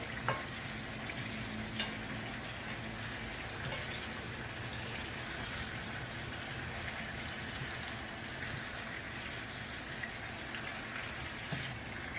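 Chicken drumsticks fry in a pan with a steady, broad sizzle that holds throughout, broken by a few soft clinks and bumps as pieces are turned.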